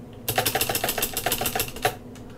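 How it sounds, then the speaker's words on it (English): A name is typed on an Amstrad CPC keyboard, a quick run of about a dozen clattering key clicks, close and fairly quiet, with no talk over it. "you type in your name"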